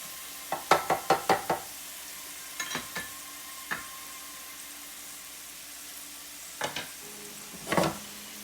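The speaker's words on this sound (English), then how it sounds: "Now I'm going to throw my tomatoes in there." Tomatoes go into a pan of sizzling onions and ginger. A spoon stirs with a quick run of sharp knocks and a few more later, over a soft, steady frying hiss.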